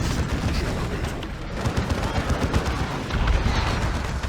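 Grenade blasts and gunfire in the Dawn of War 2 strategy game, dense overlapping explosions and shots rumbling continuously for a few seconds, loud and busy.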